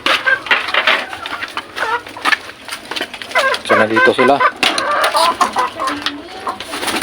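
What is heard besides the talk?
chickens clucking in their pen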